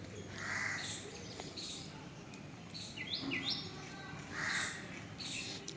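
A crow caws outdoors, several harsh calls in short bursts at moderate distance, with other faint bird chirps in the background.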